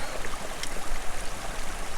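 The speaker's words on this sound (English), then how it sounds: "Two streams joining, coming off the fells there." Two mountain streams coming off the fells flow and join, a steady rushing, burbling wash of water heard close by, with no voices.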